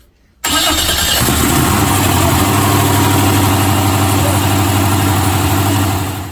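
A Corvette C6 with an LS3 V8 fires up for the first time after a short silence, catching abruptly into a loud, steady idle with a rough, throbbing low rumble that continues close by.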